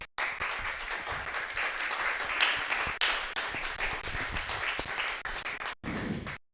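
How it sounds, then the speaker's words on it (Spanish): A church congregation applauds in a dense, sustained wash of clapping that fills the room, then cuts off abruptly near the end before a brief final burst. "si ese aplauso es para mí, ni siquiera me lo merezco"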